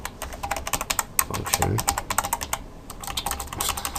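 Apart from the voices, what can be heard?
typing on a computer keyboard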